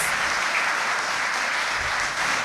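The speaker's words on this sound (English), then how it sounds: "Give them a round of applause." A crowd at a school graduation ceremony claps steadily and continuously throughout, a dense, even wash of applause with no pauses.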